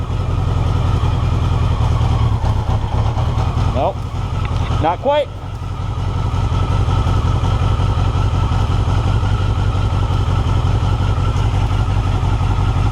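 A 1982 Yamaha XJ650 motorcycle engine cranks and runs with a steady, loud mechanical drone, briefly dipping as it sputters before recovering, with a short spoken remark over it.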